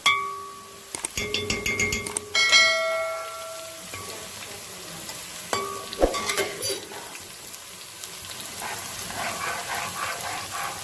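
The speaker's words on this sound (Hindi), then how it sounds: "अब मैं इसके अंदर जो है ना लहसुन ऐड कर रही हूँ।" Onions and garlic fry in a pan with a low sizzle, broken by sharp clinks and tonal ringing of utensils against the metal early on, then steadier stirring and crackle.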